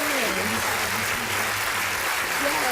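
Steady applause fills a radio studio, a dense, continuous patter of clapping at moderate volume with faint voices beneath it.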